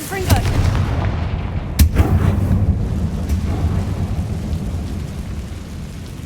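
A Confringo blasting spell in Hogwarts Legacy sets off a loud booming explosion, followed by a sharp crack and a long rumbling, crackling roar that fills the scene.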